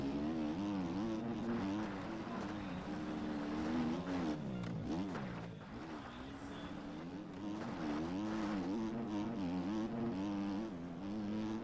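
A motorbike engine in a racing video game drones steadily throughout, its pitch rising and falling as the bike accelerates and eases off, loud and continuous.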